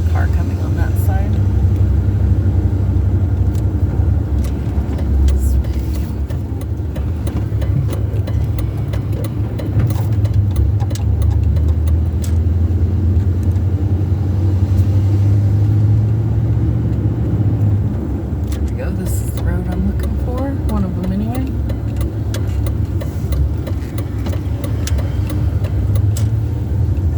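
A car driving and turning on a road near a cemetery, a steady low engine rumble and road noise heard from inside, continuous throughout, with faint speech underneath.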